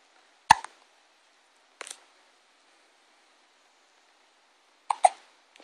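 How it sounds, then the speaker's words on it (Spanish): A baby's hiccups, sharp short catches arriving in three separate bursts with silence between them, close and clear, with no talk over them. "Es uno de tus muchos ataques de hipo que tienes."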